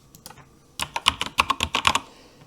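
Close keystrokes on a computer keyboard while a medication name is entered into a search field, a quick uneven burst of about a dozen clicks after a few scattered taps.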